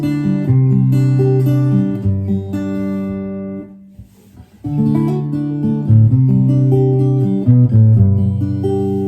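Plucked acoustic guitar notes and chords ring out loud and close through a pickup, with a brief quieter pause midway before the picking resumes.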